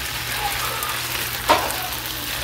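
Beef for a stew fries in a skillet packed full of meat, giving a steady, close hiss of sizzling with one brief louder spatter partway through.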